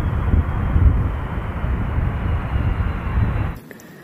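Steady airplane engine drone for a white toy airplane, a continuous loud hum that holds evenly and then cuts off abruptly near the end.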